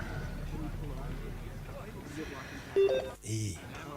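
Telephone keypad dialing tones in a film scene, a few short tonal beeps near the end over a low steady background hum, with people talking before them.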